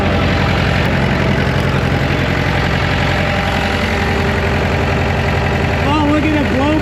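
An Allis Chalmers 644 articulated forklift, its engine sitting unused for over ten years, runs steadily at a loud, close idle with a low rhythmic diesel chug and knocking vibration, under brief overlapping voices.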